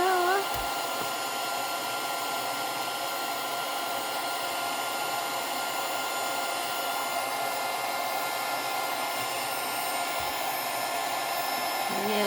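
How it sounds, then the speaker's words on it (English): A heat gun blows hot air in a steady, unbroken whoosh while a finger blade pries material up, with a couple of faint knocks and brief tones near the start and end. "this is a good combination, the finger blade and the heat gun"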